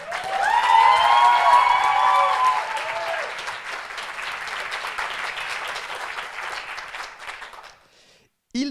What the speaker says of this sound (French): Je vous demande donc de l'applaudir.